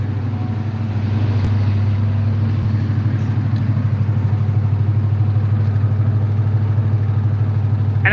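A car engine idles with its right bank misfiring, giving a steady, loud low hum with an uneven, pulsing throb and occasional ticks over the running note.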